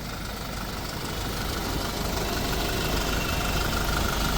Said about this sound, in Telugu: ఇంజన్ ఎంత స్మూత్ ఉంది తెలుసా మీకు?